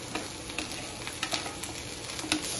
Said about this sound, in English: I'm going to sweat the onion.